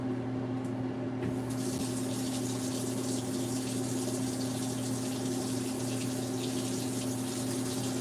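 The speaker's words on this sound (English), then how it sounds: "So it's still a little bit cold, so I'm going to run this under some hot water." Hot water runs from a tap over a steak in a kitchen, a steady close rushing and splashing stream with a constant low hum beneath it throughout.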